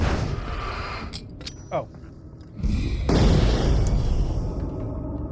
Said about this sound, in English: I should throw a flashbang down in there